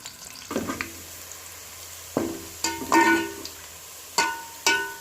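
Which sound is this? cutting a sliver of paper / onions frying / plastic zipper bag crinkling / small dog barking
onions frying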